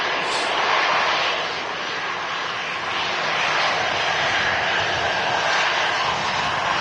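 An airliner on landing approach at Manchester Airport gives off a steady, broad engine roar that holds at an even loudness with no one speaking.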